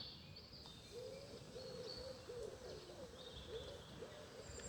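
Birds call and sing outdoors over a steady background hiss, with repeated mid-pitched chirps and a few higher distant notes.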